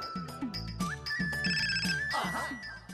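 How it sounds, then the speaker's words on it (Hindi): An office telephone rings in a Hindi TV comedy scene. The ringtone plays as a loud, repeating electronic trill with stepped pitches, under a busy backdrop of music or sound effects. "मेरी ऑफिस से फोन आया"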